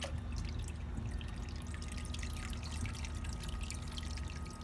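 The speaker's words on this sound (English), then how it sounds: "we're just going to pour what little remaining water is in the bucket into the tank manually and carefully." Remaining water poured by hand from a bucket into a coral reef aquarium, a steady soft splashing trickle with faint drips over a constant low hum of equipment.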